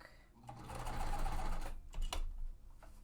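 A sewing machine stitches quilt pieces with thread that has been snagging, a soft, fairly faint whirring run of stitching that swells, briefly pauses and resumes with a sharper clack near the end.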